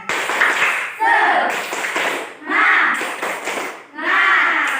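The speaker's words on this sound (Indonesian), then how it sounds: "Coba ibu mau mendengarkan tepuk semangat dulu dari kalian, ya?" A class of pupils standing in a classroom performs a rhythmic spirit clap, chanting together in bursts between sharp group claps, loud and close, in several repeated phrases.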